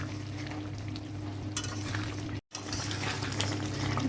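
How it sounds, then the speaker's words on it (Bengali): Meat gravy for tehari sizzles and bubbles as it is stir-fried and reduced in a pot, a steady close frying hiss with spoon scrapes and a low hum, cut by a brief silent gap. "মানে ঝোলটাকে এখন কষাবো মানে একটু শুকিয়ে ফেলবো"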